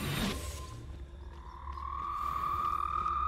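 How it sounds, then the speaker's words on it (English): A giant purple Dugbog toad in Hogwarts Legacy gives a short croak near the start, followed by a steady low ambient drone and a sustained tone that swells toward the end. "There's giant purple toads."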